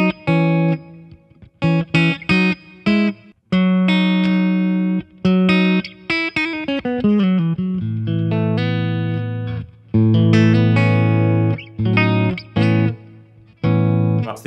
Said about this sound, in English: That's the acoustic sound through the electric amplifier.